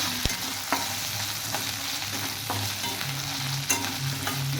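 Bay leaves, cinnamon, cardamom and cloves fry in hot oil in a pan, giving a steady close sizzle with occasional stirring clicks and scrapes throughout.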